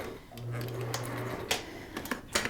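Sewing machine double stitching the band of a knit fabric turban, a short steady mechanical whir for about a second up close, followed by clicks and fabric handling noises.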